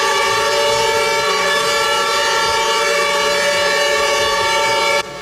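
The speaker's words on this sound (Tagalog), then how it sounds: "sabay-sabay na bumusina ang ilang bus na nakapila sa loob ng terminal" Several buses lined up inside a terminal sound their horns at once, a loud sustained chorus of blaring tones that holds steady before cutting off abruptly near the end.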